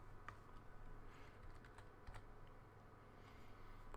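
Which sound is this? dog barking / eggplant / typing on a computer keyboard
typing on a computer keyboard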